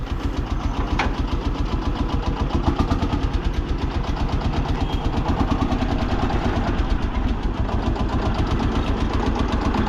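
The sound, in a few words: old tractor engine running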